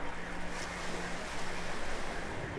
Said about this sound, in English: So I just swim in the open ocean.